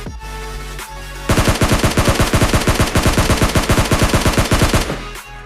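Sustained automatic gunfire in the mobile battle royale game PUBG Mobile Lite: a loud, rapid burst of evenly spaced shots running for about four seconds after a short lead-in of game ambience, with no talk over it.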